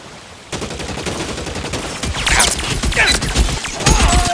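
Heavy gunfire in a video game shootout from L.A. Noire: dense bursts of rapid automatic and single shots crackle continuously after a brief quiet start, building louder toward the end with sharp impact noises.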